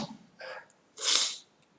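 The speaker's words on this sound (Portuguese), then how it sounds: "vou espirrar." A single person sneezes sharply and close by, preceded by a brief inhaled breath and a short gasp, with quiet room background around it.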